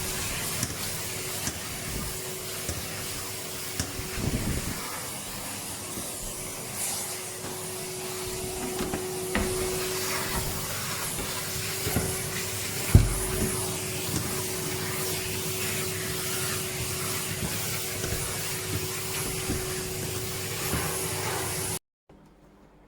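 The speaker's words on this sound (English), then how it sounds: "I'm literally just hoovering the dust off." A vacuum cleaner hoovers dust off an MDF board, a steady broadband whoosh running continuously at close range with a faint tonal hum and a few bumps, cutting off abruptly near the end.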